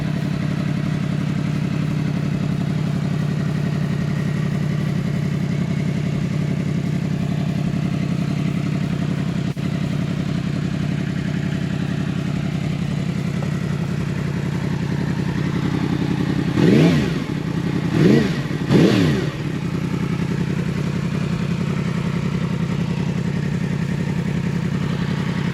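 A 2020 Yamaha MT10 motorcycle idles with a steady, throaty rumble close by, then three sharp revs rise and fall in quick succession before it settles back to idle.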